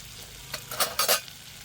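Chopped green chillies and onions fry in butter in a pan, a close, soft sizzle with a few quick stirring scrapes.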